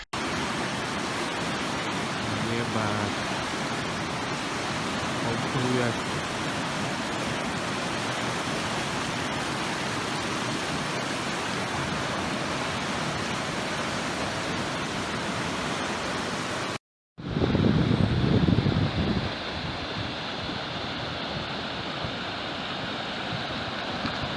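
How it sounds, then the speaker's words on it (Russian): A river flows steadily beside a highway at kilometre 5 in late May, a dense continuous rushing wash heard close and loud for a long stretch, then briefly cut and resuming with a heavier gust. "Вот это река, трасса 5 километр, 28 мая."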